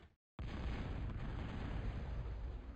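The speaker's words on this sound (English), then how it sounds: "Tip coming back in for a bombing run." Bombing run in a real-time strategy team game: a sudden loud, sustained roar of explosions and rumbling blasts bursts in after a brief silence and keeps pounding without pause.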